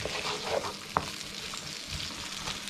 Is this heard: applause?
no